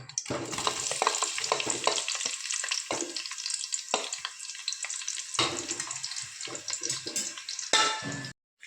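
Onions fry with whole spices in a pan for egg biryani, a close, busy sizzle broken by repeated stirring scrapes and clatters, ending abruptly.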